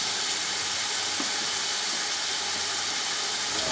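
Green chillies and tomatoes hitting a hot pan of browned onions, a steady broadband sizzle and hiss that holds evenly throughout at moderate level, with no voices.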